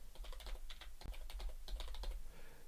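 Rapid, uneven keystrokes on a computer keyboard as a password is entered during a Proxmox 7.3 installation, close and steady throughout with no voices.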